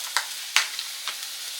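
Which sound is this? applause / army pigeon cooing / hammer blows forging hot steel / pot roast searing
pot roast searing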